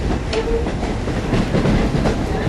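Riding aboard Strasburg Rail Road steam train no. 90, a loud, close rumble of rolling wheels and carriage rattle runs continuously with rhythmic clickety-clack.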